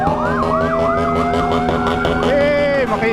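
A loud, warbling siren-like torotot horn fitted to a motorcycle swoops up and down repeatedly amid New Year's street noise in Manila, staying close and steady throughout with faint voices underneath.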